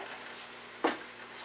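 A steady, rushing bubble of water boiling in a pot, with one brief clink partway through.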